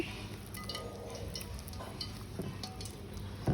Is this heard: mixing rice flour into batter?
yes